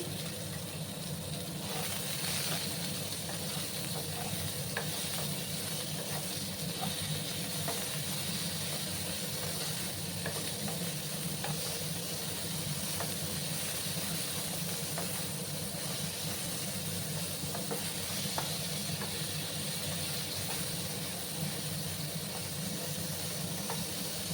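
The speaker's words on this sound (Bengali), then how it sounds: "আমি আলুগুলোকে গ্যাসের আঁচটা কমিয়ে আমি একটু ভাজা ভাজা করে নিচ্ছি" Potatoes fry in a pan over a lowered gas flame for an okra and potato curry, giving a steady, even sizzle and hiss that runs unbroken for the whole stretch without talk.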